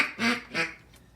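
A duck call blown to imitate the feeding chuckle of ducks: two quick, close, nasal quacking bursts followed by a faint short third note, with no talking.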